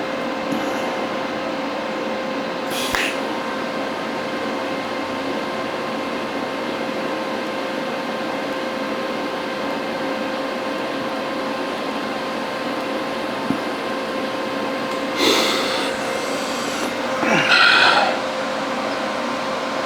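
Steady electrical hum of a TIG welder dabbing filler onto a steel flag base, a continuous buzzing tone with brief crackles near the end as the arc heats the metal, no talking.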